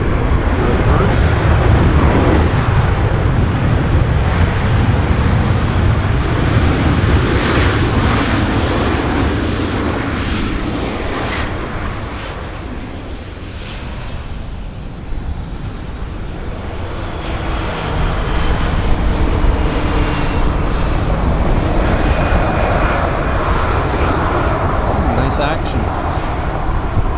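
An airliner landing at Vancouver Airport roars loudly with its thrust reversers, the broad rushing rumble swelling, easing briefly in the middle and building again, with people talking over it.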